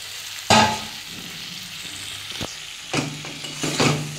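Fried potato, onion and tomato are sautéed in oil in a pan, with a steady sizzle broken by several sharp bursts of spatula stirring and scraping close by.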